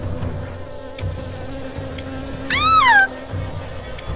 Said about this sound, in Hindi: कुछ मधुमक्खी निकली और उन सभी के आसपास मंडराने लगी।